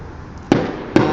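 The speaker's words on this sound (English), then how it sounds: "Fireworks in Portland." Fireworks going off over Portland, two sharp loud booms about half a second apart, each with a brief rumbling tail, and no talking.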